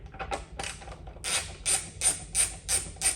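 A ratchet loosens the bolts on a motorcycle's Puig Z-Racing windscreen, giving short clicking bursts one after another at close range with no talk over them.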